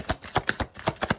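Tarot cards are shuffled in a quick final pass, a run of sharp, evenly spaced slaps and flutters up close, with no voices.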